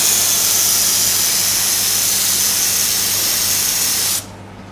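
A spray gun sprays a mixture of cocoa butter and couverture chocolate, coating a pithiviers pastry. It gives a loud, steady hiss that runs continuously for about four seconds, then cuts off abruptly and leaves quiet room tone.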